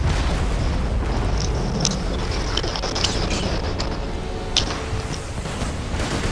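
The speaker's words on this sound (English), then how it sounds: "It's shooting a tactical nuke every 4 seconds" BNK3R in Borderlands 2 fires tactical nukes, setting off a constant heavy booming roar of explosions with sharp bursts cracking through it over and over, under occasional faint voices.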